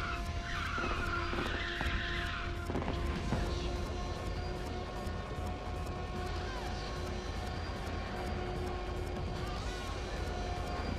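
Car tires screech in a nitrous drift in the Ridge Racer 6 video game, a sustained squeal over engine roar and game music, fairly quiet overall with a sharp burst near the start.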